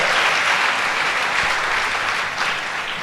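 Church congregation applauding during a Spanish-language sermon, a steady broad wash of clapping that holds at an even level for the full three seconds without voices.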